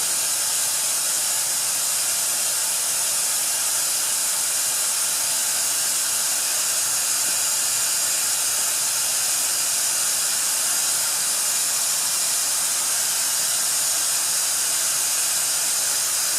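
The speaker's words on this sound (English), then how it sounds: "I want to see a little oil squirting out the top here" Oil squirting out of the rockers of a Dodge Viper engine during pre-oiling produces a steady, even hiss that holds constant at a moderate level throughout, with no talking.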